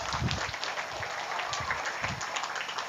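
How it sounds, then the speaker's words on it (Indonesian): Audience at a Maulid gathering in Merbau Mataram clapping steadily, a dense even patter at moderate level throughout, with a low voice murmuring faintly underneath. "Tepuk tangan, jangan malas."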